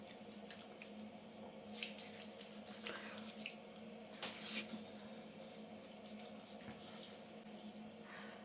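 Tap water runs steadily while cleanser is rinsed off at a bathroom sink, a soft continuous splashing with faint drips, fairly quiet and close, with no talking over it.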